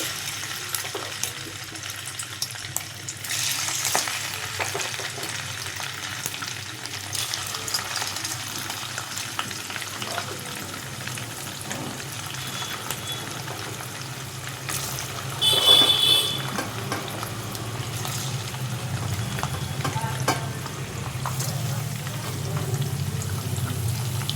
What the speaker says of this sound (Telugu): ఆయిల్ వేడయ్యాక పన్నీర్ ముక్కలు వేసుకోవాలి.